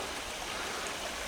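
Snowmelt water runs in a steady, continuous rush on a homestead, a dense broadband flow heard up close and fairly quiet, with no talking.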